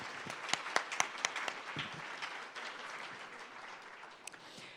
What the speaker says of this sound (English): please give a warm round of applause to our fantastic speakers